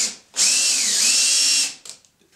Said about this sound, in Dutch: als ik hem erin schroef, omdat hij niet is voorgeboord